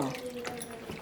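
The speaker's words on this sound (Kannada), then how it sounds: "ಇದಕ್ಕೊಂದು ಸ್ವಲ್ಪ ನೀರು ಹಾಕ್ಕೊಂಬಿಟ್ಟು" A short stream of water is poured into masala in a pan, giving a brief splashing, running sound mixed with faint background voice.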